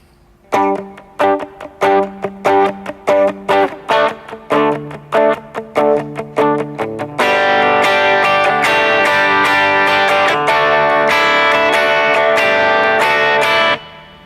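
Electric guitar plays the outro riff of a song: crisp muted rhythmic strums give way to a bright, sustained ringing chord pattern with shimmering delay, loud and close, with no talking.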